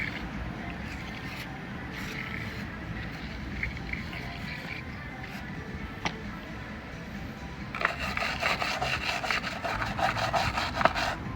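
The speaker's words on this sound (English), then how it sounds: "As you can see, we've given it a good scrub" Close, steady rubbing and scrubbing on the back of a car tail light lens with TFR cleaner, turning into faster, rougher back-and-forth scrubbing strokes near the end.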